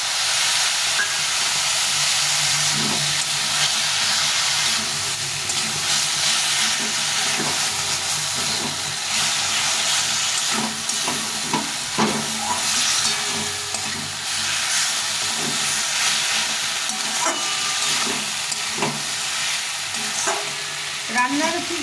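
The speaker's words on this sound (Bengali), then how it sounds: "এই মশলার সঙ্গে কষিয়ে নিতে হবে ভালো করে" Vegetables are stir-fried with spices and a splash of water in a pan. A loud, hissing sizzle with steam runs throughout, punctuated by frequent stirring clatters close by, with no speech.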